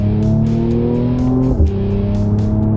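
A Mercedes C43 AMG launches hard uphill with its engine roaring loudly as the pitch climbs steadily, then dips briefly at a gear change before pulling again.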